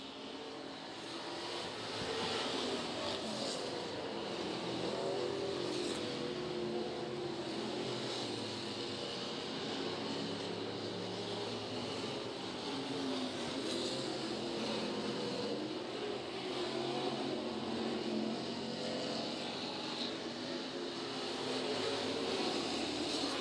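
Race cars roaring around Cherokee Speedway during the Stick Elliott Memorial, a continuous distant engine drone swelling and fading as the field passes, with no talk.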